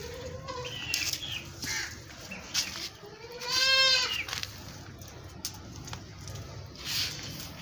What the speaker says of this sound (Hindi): ये देख लो दूध वाली बकरी है।